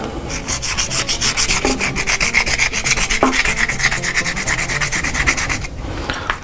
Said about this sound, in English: this one's 50 grit sandpaper, and this was 180. And I'm gonna start sanding